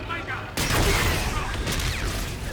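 Gunfire in the shooter Call of Duty: Infinite Warfare, a dense burst of shots that starts abruptly and keeps rattling loud and close, with a voice talking over part of it.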